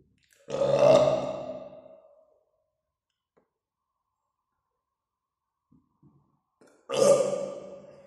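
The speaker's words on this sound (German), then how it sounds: "Oder vielleicht kommt noch ein Rülpser?" Two loud, drawn-out human burps with a reverb effect, each trailing off in an echoing tail, separated by several seconds of near silence.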